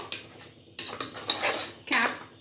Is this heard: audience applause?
no